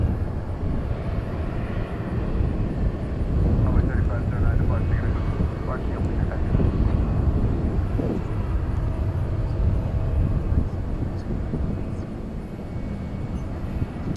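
Boeing 737-800 airliner at a busy airport, a steady broad jet-engine roar that swells slightly midway and holds throughout at moderate distance, with faint voices in the background.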